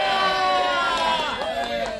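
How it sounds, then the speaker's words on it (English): Crowd cheering and clapping at an outdoor Groundhog Day 2024 event in Sun Prairie, Wisconsin, a dense burst of whoops and voices that holds for a couple of seconds and then begins to fade. "Round of applause."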